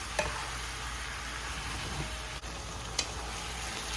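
Seared beef sautéing in a pan for a braised beef mechado with toasted garlic: a steady, even sizzle throughout, with a couple of brief sharp clicks near the start and end.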